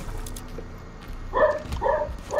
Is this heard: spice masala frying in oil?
no